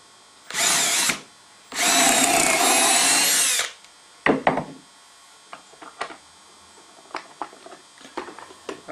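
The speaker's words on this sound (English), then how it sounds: "line the end of the board up with the end of the Dowelmax and drill our holes" A power drill whines in two bursts, the second longer, drilling dowel holes in the end of a wood board with a Dowelmax jig, followed by scattered knocks and clatter of wood being handled.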